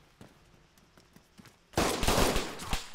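Gunfire erupts in a shootout in the video game Arma 3 Altis Life, starting with scattered faint pops and then becoming a loud, dense burst of continuous rapid shots in the second half.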